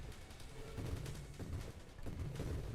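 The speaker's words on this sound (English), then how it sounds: "I hit one guy with a grenade" Grenade explosions in the space shooter Nova Drift: a fairly faint, continuous stream of muffled booms and rumbling pops in irregular succession, low and bassy, with a couple of heavier thumps and no voices.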